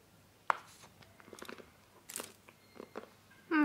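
Gluten-free dark chocolate bitten with a sharp snap, then chewed close up in a series of soft crunches and wet mouth sounds, with no talking.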